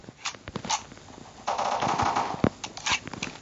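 Gunfire in the blocky first-person shooter Block Strike, a dense rattling automatic burst in the middle with scattered single shots before and after, fairly loud and close.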